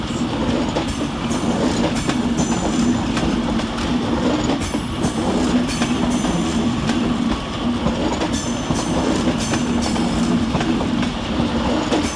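Two Class 331 electric trains pulling out of Manchester Piccadilly station, with a steady loud rumble, rhythmic clickety-clack of wheels over rail joints and faint squeals, heard close on the platform without speech.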